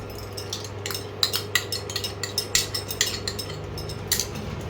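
A metal spoon clinks and scrapes against a pan as beaten egg seasoned with salt and pepper is slowly stirred into potato curry over high heat, light repeated taps over a steady low hum.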